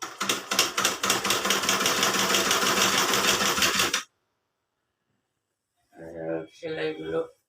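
A sewing machine stitches shoes in a fast, steady mechanical chatter for several seconds, then stops; after a pause a person speaks.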